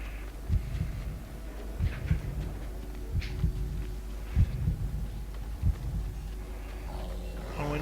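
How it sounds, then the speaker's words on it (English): Low, thumping heartbeat of an elk in a woodland video game, a steady series of soft double pulses repeating about every second and a quarter over a faint background hum. "And the elk you have to find by listening for its heartbeat."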